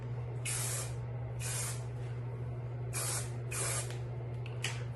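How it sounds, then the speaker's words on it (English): Hairspray hisses onto hair in five short bursts, close and crisp, over a steady low background hum. "Okay, after it's all done, I use a High Shines hairspray."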